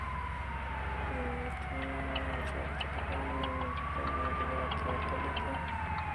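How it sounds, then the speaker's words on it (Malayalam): An ambulance siren in a bus simulator video game wails in rising and falling sweeps at moderate distance over steady engine hum, with someone talking intermittently. "മുമ്പിലത് ആംബുലൻസ് അവർ മാറി കൊടുക്കണമെന്നാണ്"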